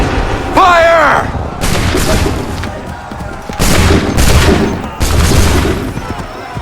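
Cannon volleys from a sea or field battle in the video game Assassin's Creed III, loud repeated booming bursts in several waves with shouted commands over the top.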